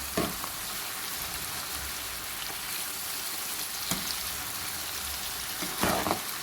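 Chicken manchurian sautés in a hot pan with a continuous, moderate sizzle, broken by a few soft scraping stirs throughout.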